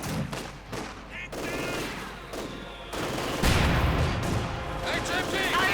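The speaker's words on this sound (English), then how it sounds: "conscripts getting mowed down by a machine gun" Company of Heroes 2 battle with a machine gun firing quick bursts, mixed with sharp rifle shots and heavier booms, while a commentator talks over the gunfire throughout.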